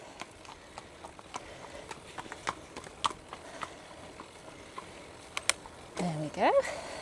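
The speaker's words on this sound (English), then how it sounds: "Oh, we've got a horse coming." Horse hooves clip-clop at a steady, faint walking rhythm on a gravel road in the Forest of Dean, heard from a passing bicycle, with a short burst of noise near the end.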